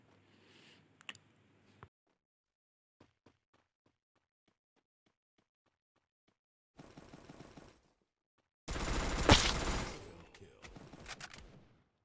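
A new rapid-fire gun rattles off in the Free Fire video game: faint isolated clicks and shots first, then a short burst and a loud sustained volley of fast gunfire near the end.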